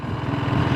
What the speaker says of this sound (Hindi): सिर्फ क्लच छोड़ूंगा और बाइक देखो चलना शुरू करेगी